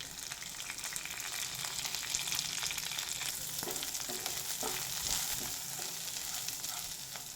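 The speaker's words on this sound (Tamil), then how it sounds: "நம்ம எடுத்து வச்சுருக்க இந்த பிரண்டையை இதோட சேர்த்துக்கலாம்." Pirandai (adamant creeper) being sautéed in a pan with other ingredients for chutney, giving a continuous soft frying hiss with occasional faint stirring sounds.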